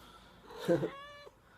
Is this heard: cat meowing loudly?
yes